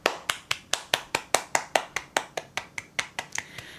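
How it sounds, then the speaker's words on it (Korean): About sixteen sharp hand claps sound in an even rhythm, close and fairly clear. They welcome a guest on a talk-style art program, more like one person clapping than a crowd. "박수로 맞아주세요"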